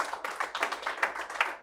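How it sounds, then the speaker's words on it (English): Audience at a Charles County Delegation community grant award presentation clapping briefly, a short burst of scattered hand claps fading out within two seconds. "So I'm gonna applaud us for that"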